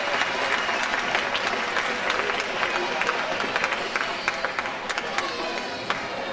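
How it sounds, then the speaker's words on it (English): Crowd applause at a Jean Shepherd Day community event in Hammond, Indiana, a steady wash of many hands clapping, fairly loud and continuous, thinning slightly toward the end. "Let's give them a big round of applause, everybody."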